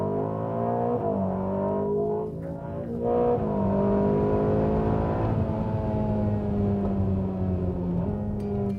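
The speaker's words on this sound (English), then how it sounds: "Experience the exhilarating moment as the turbos open up." A 2021 Ferrari Roma with twin turbos accelerates hard under launch control, the engine note climbing through gears with brief dips at each shift, loud and sustained from inside or close to the car.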